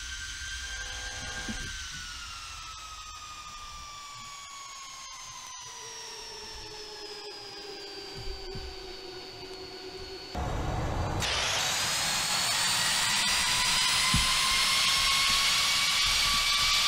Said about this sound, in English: we're doing pretty good for a single engine taxi so far